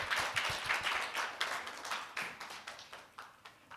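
Audience applause at a Korean conference performance report session, a dense burst of many clapping hands that gradually thins and fades over a few seconds, with no talking.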